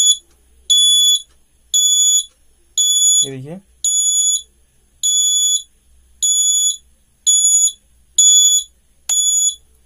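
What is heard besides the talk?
buzzer of DIY bike and car indicator circuit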